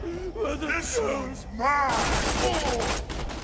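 Rapid gunfire from a powerful weapon in Borderlands 2 bursts out loud and dense after a stretch of someone talking, with talk carrying on over the shots.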